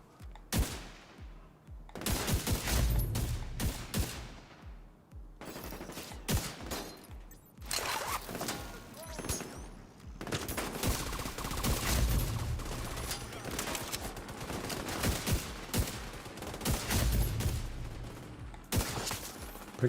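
Gunfire in the video game The Division 2: dense bursts of rapid automatic shots and heavy single blasts, loud and nearly continuous, with brief pauses between volleys.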